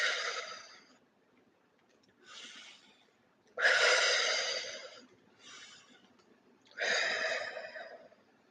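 Slow meditative breathing, drawn in through the nose and let out through the mouth, heard close as several soft airy breaths with pauses between them and no talking.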